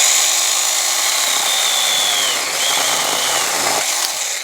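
An ASJMREYE 24v mini chainsaw cuts through a workpiece on a single full-on speed, a loud, close, high-pitched motor whine with the pitch dipping slightly as the chain bites.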